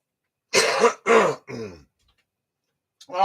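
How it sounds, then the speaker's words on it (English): Three loud, harsh coughs or throat-clearing bursts in quick succession, close to the mic, then silence and the start of another. "Sorry about the coughing."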